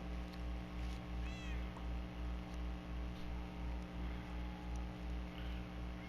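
A cat in Minecraft meows a couple of times, short rising calls heard over a steady pulsing hum of game background sound, moderately loud and close.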